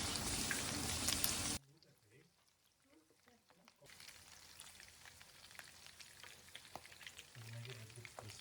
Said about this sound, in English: Fry them just right to achieve that perfect crispy exterior and juicy interior.